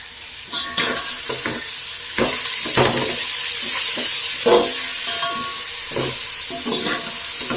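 Green chillies, mint and coriander get stirred into sizzling masala for a chicken biryani, with loud steady frying hiss and repeated spoon scrapes against the pot, close and without speech.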